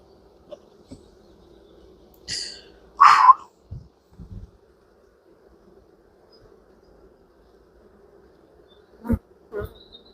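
Honey bees at an opened beehive make a few short buzzing passes close by, separated by long quiet gaps, with faint handling knocks in between.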